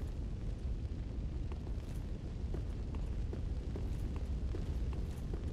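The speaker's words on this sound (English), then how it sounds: "Did I just set the whole place on fire?" Fire burning across an area in Dark Souls III: a steady, dense roar with low rumble and faint crackling pops, continuous throughout at moderate volume with no speech.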